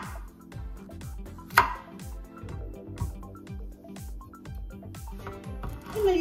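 A knife slices through raw zucchini on a cutting board in quick regular chops, close and crisp, with one sharper clack partway through and faint background sounds between strokes.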